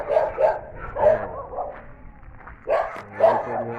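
A farm dog kept near chicken and duck pens barks in several sharp bursts, two clusters of close, fairly loud woofs separated by a short pause, with no talking.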